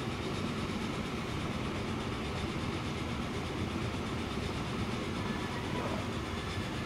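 A train runs on rails in the video game Transport Fever, a continuous rumbling roll with faint clickety-clack underneath, steady and fairly quiet, with no voices.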